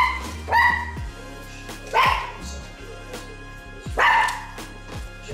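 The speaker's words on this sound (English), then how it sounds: "Y'all see the little puppy?" A small puppy barks and yips in short bursts, three sharp high-pitched yaps spaced about two seconds apart, close and loud against a low background hum.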